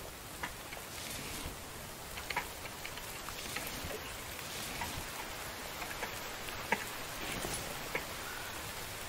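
Steady rain falls in The Infected video game, a dense continuous hiss with occasional sharper drops and ticks, filling the scene at even volume with no voices.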